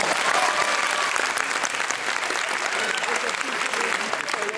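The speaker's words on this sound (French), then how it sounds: "je propose qu'on les applaudisse" Audience applause at a live conference, sustained and steady for several seconds, dense clapping filling the room with no break.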